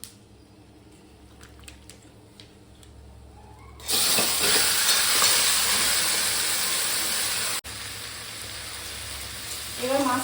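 Boyal fish tipped into hot oil with spices for a Bengali curry, a sudden loud sizzling hiss that bursts in after quiet and holds steady, briefly cut then resuming.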